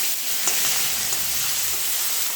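Slit green chilies hit hot oil with bay leaves and whole cumin, giving a steady, close sizzle and crackle with a few sharper pops, no voices.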